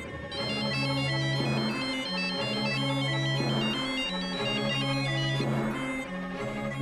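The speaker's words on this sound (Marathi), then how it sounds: "विश्वासरावांचा फोन आहे ना?" A mobile phone ringtone plays a steady repeating melody, loud and close, for several seconds with no talking over it, in a domestic scene from a Marathi thriller TV serial.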